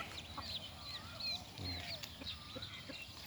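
Backyard laying hens and farm chickens at feeding time, soft repeated clucks and squawks spread across the clip, fairly close but quiet, with faint background noise.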